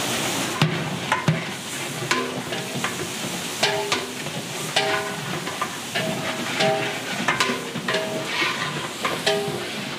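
Garlic fries in a pan for Chennai-style chicken biryani: a constant sizzle with repeated scraping and clinking as it is stirred, in an uneven rhythm throughout, with no talking.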